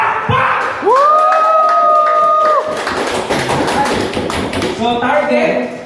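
A seminar audience at a sales mindset talk bursts into loud, dense applause on cue, the clapping sustained for several seconds with a drawn-out voice cheering over the start and more shouts near the end.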